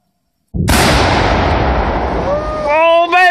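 An explosive charge blows up a beaver dam outdoors: a sudden loud blast that becomes a long, roaring rumble lasting nearly three seconds, then tails off into a rushing wash of debris and water.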